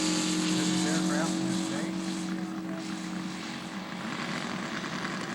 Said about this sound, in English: Bill Curry in his stagger wing Beach with a 7-cylinder Seidel radial engine